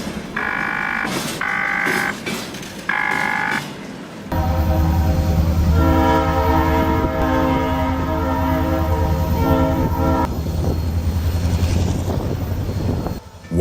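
A steam locomotive whistle sounds in three short loud blasts, then gives way to a long sustained chord-like whistle over a deep rumbling engine, close and loud with no talk.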